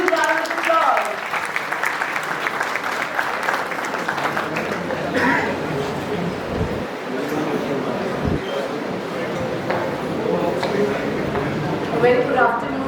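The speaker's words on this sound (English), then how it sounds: "Let's give her a huge round of applause." An audience at a college convocation keeps up a sustained round of applause, steady and full through most of the stretch, with a voice faintly audible beneath it.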